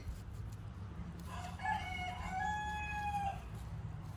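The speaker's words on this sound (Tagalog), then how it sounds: "yung manok namin tumitilaok." A single rooster crows once at moderate distance, a long drawn-out call rising and holding over a low steady background hum.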